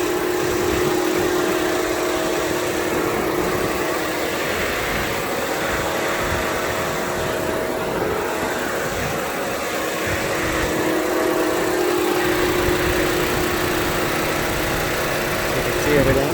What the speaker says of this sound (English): It's the engine, it's running.